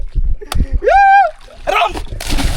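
A person jumps into dam water, giving a loud splash and slosh near the end, preceded by a short rising shout and voices talking nearby.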